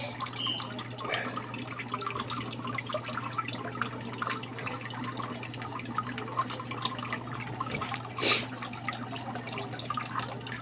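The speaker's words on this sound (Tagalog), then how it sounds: "sasalain niya yung tubig, ibabalik sa mahina na siya, tulo na lang" Water trickles and drips softly into a fish tank, a faint steady flow with a low filter hum beneath it and one slightly louder splash near the end.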